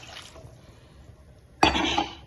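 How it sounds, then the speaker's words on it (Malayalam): Water poured into a cooking pot on the stove holding jackfruit seeds and turmeric powder, starting abruptly after a quiet stretch as a close, splashing pour that continues to the end, with no talking. "ഒരു വെള്ളം ഒഴിച്ച്"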